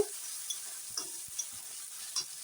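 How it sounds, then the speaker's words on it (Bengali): Spices being fried and stirred in a pan while cooking a rohu fish head dish, a faint steady sizzle broken by a few soft scraping stirs, quiet and close with no talking. "মশলা দিয়ে এখন ভালো করে কষিয়ে নেব"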